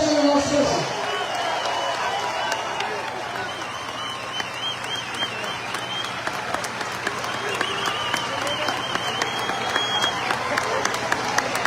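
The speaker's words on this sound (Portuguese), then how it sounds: "ele merece um minuto, pelo menos, de aplausos nossos" A street crowd at a gathering after a death applauds continuously for over ten seconds, dense sustained clapping with scattered whoops and cheers, voices mixed into the noise.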